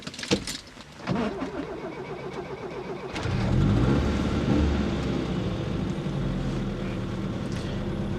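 A car engine cranks and catches at night beside a highway, settling into a steady, fairly loud idle that continues to the end with no talk.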